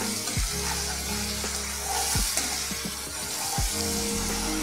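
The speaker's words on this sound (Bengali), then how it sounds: "দিয়ে একটু কষিয়ে দিই।" Turmeric and cumin powder with ginger-onion paste sizzling in hot oil for a Bengali fish curry, a steady close frying hiss with a few scraping stirs of a spoon against the pan.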